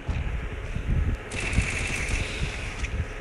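Rapid gunfire bursts in the mobile battle game Free Fire, quiet rattling volleys with a brief higher-pitched shot effect, played under faint background sound.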